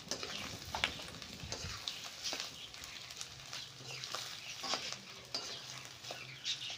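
Spiced fritters (bade) fry in a pan with a faint, steady sizzle. Scraping and stirring clatter comes through in irregular bursts, with a few brief background noises, and no speech over it.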